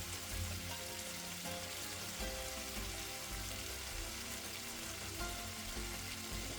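Meat for Mexican birria fries in oil in a pan, giving a steady, fairly quiet crackle and sizzle with no talking.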